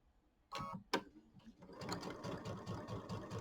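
A domestic sewing machine running a piecing stitch along a quilt block seam, starting after a couple of sharp knocks and then purring steadily with rapid needle ticks, fairly quiet and close.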